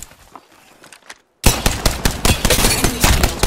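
Gunfire in the battle royale game Apex Legends: a quiet stretch of scattered shots, a brief silence, then loud rapid automatic fire rattling continuously with sharp individual cracks.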